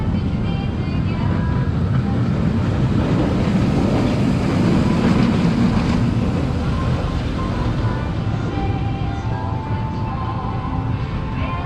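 Roller coaster train running at SeaWorld Orlando, a B&M ride, heard as a loud, steady, continuous rumble and roar that holds for the whole stretch with no gaps.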